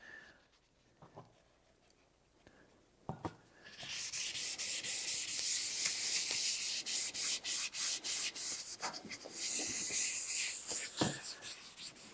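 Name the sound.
rubbing Minwax special walnut stain onto wood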